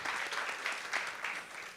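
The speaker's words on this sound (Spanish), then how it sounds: "Un aplauso para las intervenciones de los panelistas." Steady applause from a seated conference audience, moderately distant and even, clapping continuously through the moment with no voices over it.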